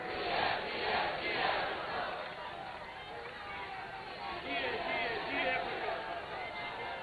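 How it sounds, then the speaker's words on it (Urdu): A large crowd at a political rally in Karachi chants a slogan in rhythmic, roaring waves, loud and continuous, with a dense babble of voices underneath. "ان کے لیے ایک ہی نعرہ ہے، نعرے نعرے نعرے بھٹو."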